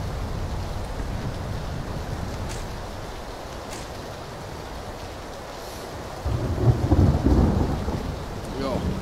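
Heavy rain and thunder in PLAYERUNKNOWN'S BATTLEGROUNDS: a steady, dense hiss of rainfall over deep rolling rumbles, swelling louder toward the end, with no voices.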